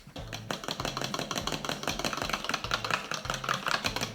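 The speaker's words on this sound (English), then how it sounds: "I'm just going to beat that all together with a fork" Eggs and vanilla extract beaten together with a fork in a bowl for cupcake batter, a fast steady run of light clicking and tapping strokes against the bowl, close and continuous with no talking.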